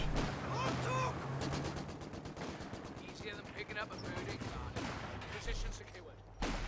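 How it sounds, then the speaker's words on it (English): Vickers machine gun in Company of Heroes 2 firing sustained bursts across a busy battlefield, with a steady rapid rattle running beneath other distant gunfire and battle noise throughout. "that is indeed a Vickers locking down the centre now"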